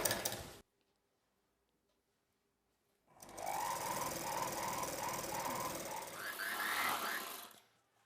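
A domestic sewing machine runs a steady, continuous stitching burst for about five seconds, hemming the folded edge of a sleeveless umbrella dress, after a brief noise and a silent pause.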